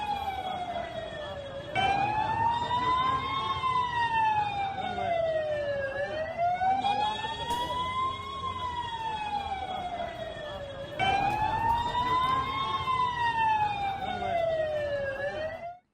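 Ambulance sirens wail in a slow rising and falling sweep after an Israeli attack on Lebanon, loud and close over rumbling traffic, with a second siren cycle restarting partway through.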